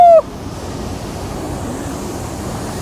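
Rushing water at Hogenakkal Falls heard from a boat: a steady, loud, broad roar of falling water, cut in after a brief tone, with no voices over it.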